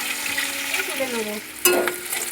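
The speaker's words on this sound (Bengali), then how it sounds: "এই একইভাবে বাকি মাছগুলোও ভেজে নেব।" Fish sizzles as it fries in oil in a pan, a steady close crackle with a stirring scrape and a brief louder spatter partway through.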